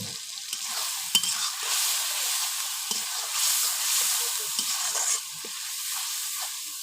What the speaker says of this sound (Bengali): দেখুন মশলাটা ভালোভাবে কষিয়ে নেব।